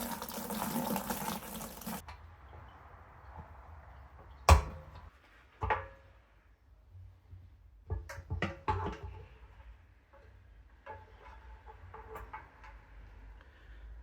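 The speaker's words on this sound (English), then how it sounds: "the first thing I'm going to do is drain the fuel tank." Fuel drains out of a rusty motorcycle fuel tank outdoors, a brief pouring rush at the start followed by quiet scattered knocks and splashes, faint and alone.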